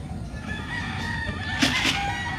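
A farm rooster in the Philippines gives a drawn-out crow mixed with clucking, close and clear over a constant background murmur, with a sharper call near the end.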